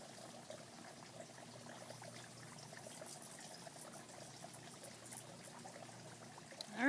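Water pours steadily into a planting well dug for a plumeria in Arizona soil, a continuous soft trickle and splash heard close up and alone, swelling briefly louder at the very end.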